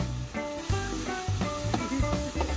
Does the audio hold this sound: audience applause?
no